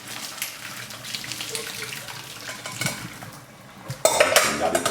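Cooked ramen noodles drained from a pot: soft clinks of cookware and quiet water movement, then a loud, steady gush of water pouring out during the final second, with no talking.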